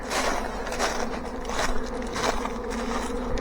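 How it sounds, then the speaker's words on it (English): Honey bees fanning across the front of a swarm trap box, a steady, dense buzzing drone close to the microphone, continuous throughout with no talk. "We're definitely fanning all over the front of the box now."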